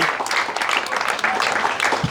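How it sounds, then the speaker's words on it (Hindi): An audience claps during a gift distribution to shelter home children, steady applause at moderate level with some voices mixed in. "तालियां नहीं रुकनी चाहिए।"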